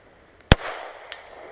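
A single sharp Glock pistol shot cracks loudly at an outdoor shooting range, followed by a fading reverberant tail and a fainter distant pop from another shooter.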